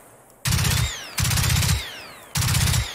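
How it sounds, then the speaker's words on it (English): Three loud bursts of rapid automatic gunfire from an enemy robot in Generation Zero, each lasting about half a second with a sweeping whine trailing behind, separated by short pauses. "Whoa, he's shooting stuff."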